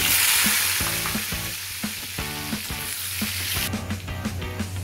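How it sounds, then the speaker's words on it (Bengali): Parboiled potatoes fry in oil for chicken biryani, a steady broadband sizzle running throughout with repeated utensil scrapes and taps as they are stirred in the pan. "এবার এগুলোকে আমি তেলে ভেজে নেব।"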